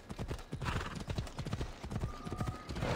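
Hooves of the horse of Hades clip-clopping in Assassin's Creed Odyssey, a quick, regular gallop of sharp thuds close by, with a brief whinny mixed in partway through.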